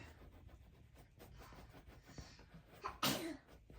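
A single loud sneeze bursts out near the end, preceded by a short breathy intake over a low, noisy background.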